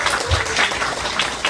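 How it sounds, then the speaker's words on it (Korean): A church congregation gives a brief round of encouraging applause, a dense, loud wash of clapping filling the moment, with a low thump near the start. "다시 한번 격려의 박수."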